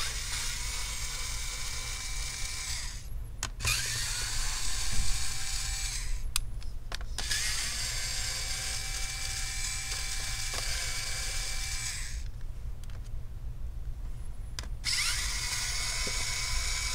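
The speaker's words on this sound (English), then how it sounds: "Lift it up, and let's go ahead and remove the screws." Screws being backed out of the left CPU fan in an HP Pavilion 16 laptop during teardown, a steady close mechanical ratcheting whir with a few short pauses, no talking.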